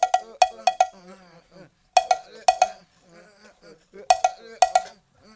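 Vocal percussion, with voices imitating bright cowbell-like clinks in quick repeating clusters alongside short sung and mouthed syllables in a rhythmic pattern.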